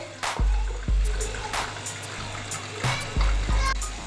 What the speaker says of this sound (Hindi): अब इस वक्त इसके अंदर हम थोड़ा सा पानी ऐड करेंगे